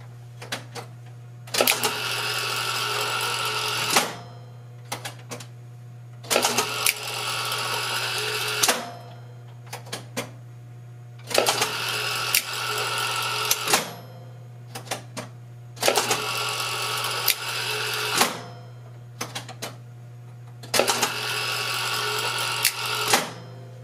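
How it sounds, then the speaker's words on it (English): Wurlitzer Statesman 3400 jukebox selection accumulator, with the record changer disabled, runs in repeated mechanical bursts of rapid clicking and whirring, each lasting a few seconds with short gaps between, over a steady low electrical hum. "the record changer, is disabled, so the only noise we'll hear is the selection accumulator"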